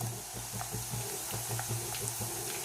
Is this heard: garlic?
yes